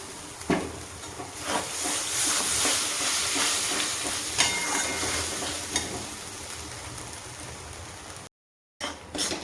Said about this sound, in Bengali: এই দেখো সমানে নাড়তে হবে, তা না হলে নিচেটা ধরে যাবে।